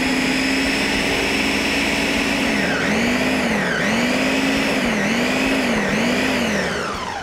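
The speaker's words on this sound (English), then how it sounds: "put the blender in, make sure we got it locked down, and let it roll." A blender runs steadily, whirring loudly as it mixes ingredients for a creamy sauce. The motor's pitch sags and recovers several times as the load shifts. No one talks.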